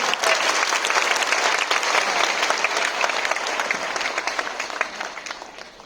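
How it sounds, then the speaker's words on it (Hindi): An audience at a Modicare seminar event in Patna breaks into loud, enthusiastic clapping, a dense burst of applause lasting several seconds that fades a little toward the end. "जोरदार तालियां अपने लिए बजा लो"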